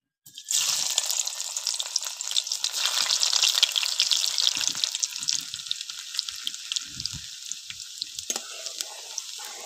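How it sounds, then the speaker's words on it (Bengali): Chopped garlic hits hot mustard oil and bursts into a loud, bright sizzle that settles into steady crackling with scattered pops, close up and without talk. "তেল গরম হয়ে গেছে, এবার আমি রসুন কুচি দেব।"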